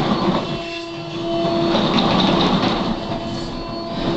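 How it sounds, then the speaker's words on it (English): A Vantech motor controller on a K9 robot gives off a steady tonal whine amid rumbling mechanical drive noise as the robot moves across a floor, loud and continuous throughout. "The whine you're hearing in the background is the Vantech motor controller"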